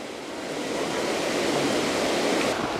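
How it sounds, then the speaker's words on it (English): Waterfall in Lydford Gorge, a dense steady roar that swells slightly after the first moment and then holds constant, loud and close with no voices. "you get a better view of the waterfall"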